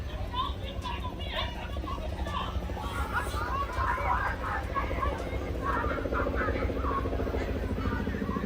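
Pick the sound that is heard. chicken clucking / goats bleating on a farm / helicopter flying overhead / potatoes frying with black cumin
helicopter flying overhead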